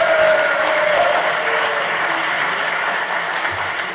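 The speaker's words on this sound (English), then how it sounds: "Everyone a big round of applause" A round of applause fills a London lecture hall at Conway Hall, dense steady clapping from an audience, loud at first and easing slightly toward the end.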